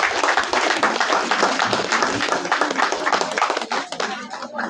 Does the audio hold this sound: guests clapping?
yes